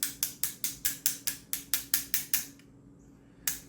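Sharp, evenly spaced metallic taps strike a Traxxas XRT/XMAXX RC car bearing, about a dozen in quick rhythm, then a short pause before one more tap.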